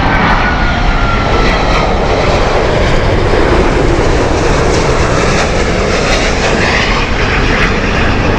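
DHL cargo plane at Heathrow Airport on a windy morning, a steady loud roar of jet engines held across the whole stretch with broadband rumble and no voices.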